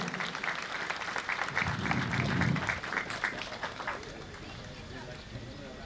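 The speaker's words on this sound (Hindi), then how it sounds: "आप सभी से अनुरोध है इनका जोरदार तालियों से उत्साहवर्धन करें।" Crowd clapping at an Independence Day celebration at IGNTU Amarkantak as an award and certificate are presented, a dense round of applause that swells then thins out, with voices mixed in.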